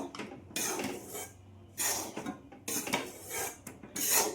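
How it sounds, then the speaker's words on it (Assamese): Dry ragi laddu ingredients, ragi flour, peanuts and besan, are mixed by hand in a bowl, making four loud rasping, scraping bursts separated by short quiet gaps. "আটাইখিনি ভালদৰে মিহলাই ল'ব লাগিব"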